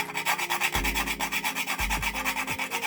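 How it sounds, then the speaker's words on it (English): A whole nutmeg is grated by hand into coconut bake dough, giving a quick, regular back-and-forth rasping scrape, close and clear, with a few low thumps from the grater. "I can grate some nutmeg in there, so I'm just grating this in."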